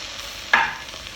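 Onion and potato being stirred in a pan for a Kerala-style chicken stew, one brief scraping stir with a short sizzle, close and isolated against quiet background.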